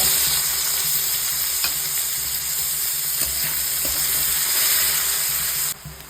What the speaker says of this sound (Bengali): এইবার আমি তেজপাতাটা দিয়ে পেঁয়াজগুলো দিয়ে দেব